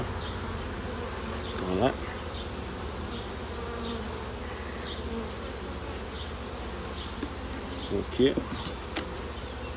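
Honeybees buzz steadily around a small queen-rearing mini colony during a hive inspection, a continuous close insect hum with occasional brief louder passes and a few short spoken words over it.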